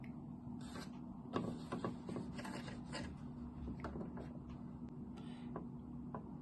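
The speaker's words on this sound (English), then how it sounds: "Machine stitch the second row." A sewing machine stitches a row of fabric for gathering, giving a faint, quiet, steady mechanical whirr with soft rasping clicks and no talking.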